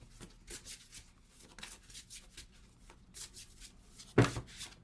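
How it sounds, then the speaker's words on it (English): Oracle cards are shuffled by hand in soft, quiet riffling bursts that repeat irregularly, with one sharper slap near the end. "So we are gonna keep shuffling here."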